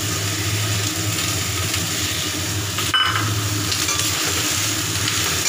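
Mustard seeds, salt and turmeric sizzling loudly in hot oil with fried eggplant, potato and taro, a steady close crackle with stirring throughout.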